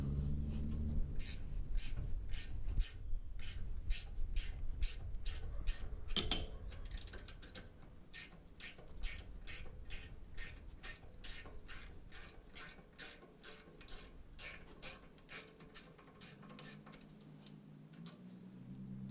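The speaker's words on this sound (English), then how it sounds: "we're going to use a ratchet wrench, goes on the outside" A ratchet wrench working on the brake bolts of an F10 BMW M5 during a rotor and pad job, giving long runs of rapid, sharp clicking up close, with a pause partway through before the clicking resumes.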